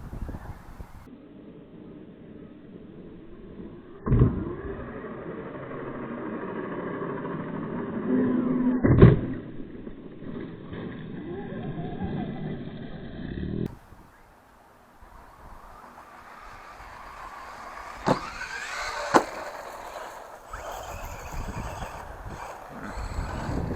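A Big Rock RC truck runs at full throttle for jumps, its small electric motor whining and revving steadily, with sharp thuds and clatters as it lands, heard up close throughout with no talking.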